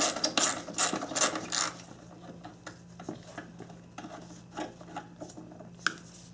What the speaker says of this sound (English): I'm sure you heard all that noise, and that's because of all the rust on these threads.